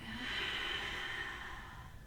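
Steady breathing during a seated yoga twist in a kids' yoga routine, a continuous airy hiss of inhaling that swells and slowly fades over about two seconds, fairly close and quiet, with no talking.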